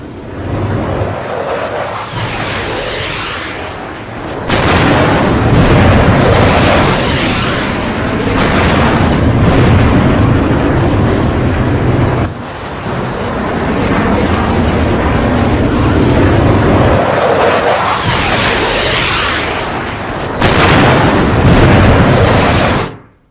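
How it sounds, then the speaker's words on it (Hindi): Missile strike explosions on the warship USS Abraham Lincoln, rendered in a synthetic battle scene: loud, sustained booming blasts and roaring bursts with several sharp onsets, filling the whole stretch without speech. "कुछ इस तरह से युद्धपोत पर अटैक हुआ।"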